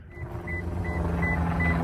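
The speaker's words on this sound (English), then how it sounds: "that's just the vehicle beeping to let you know that the kid has left the vehicle" A 2024 Lexus IS300 sedan sounds a warning chime, five evenly spaced short beeps over a low steady background hum, with no talk.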